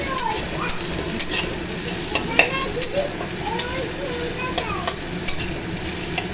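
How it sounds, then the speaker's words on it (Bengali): Onions frying in a pan for a Bengali brinjal bharta, a steady crackling sizzle with occasional sharp clicks of a spoon stirring, close and continuous. "পেঁয়াজটা ভাজা হচ্ছে"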